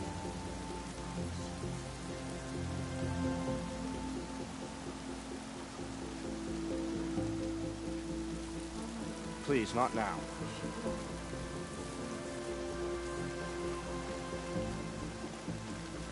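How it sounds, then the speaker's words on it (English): Steady rain falling in Horizon Zero Dawn, a soft continuous patter on surfaces throughout, with characters' voices speaking briefly over it. "More rain."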